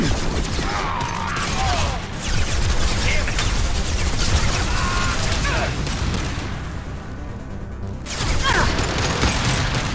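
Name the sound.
high-impact gunshot fired in Mass Effect 2 video game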